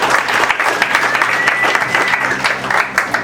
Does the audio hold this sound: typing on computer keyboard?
no